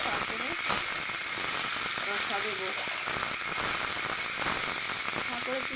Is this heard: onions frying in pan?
yes